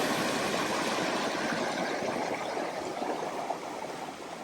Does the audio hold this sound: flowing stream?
yes